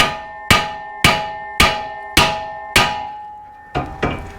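Sharp metallic hammer taps on a suspension socket of a Dodge Dakota while loosening a broken shock, six evenly spaced ringing strikes followed by two quicker, duller ones, close and loud.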